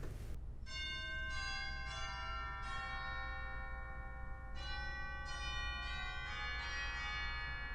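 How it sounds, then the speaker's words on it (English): Chimes on a 1992 Reuter pipe organ ring out in a slow series of bright, bell-like strikes, each tone sustaining and overlapping the next, clear and fairly close with no talking. "there's a set of chimes in here too"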